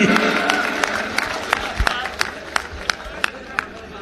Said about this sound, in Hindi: जोरदार ताली, जोरदार ताली।